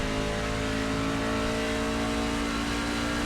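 Race truck engine in the iRacing sim, a C-Fixed truck at World Wide Technology Raceway, droning loud and steady as the throttle opens, with a dense buzzing roar filling the whole clip.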